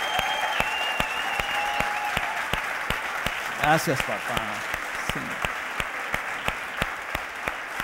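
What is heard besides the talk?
congregation applauding loudly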